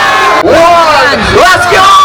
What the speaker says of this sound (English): on the count of 3, give us a big Yahoo